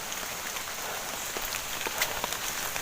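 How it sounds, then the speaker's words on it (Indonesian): Steady rain falls on a forested mountain trail on Mount Geulis in Sumedang, a constant hiss with scattered close drops pattering on nearby surfaces, with no voices. "ini keadaan hujan"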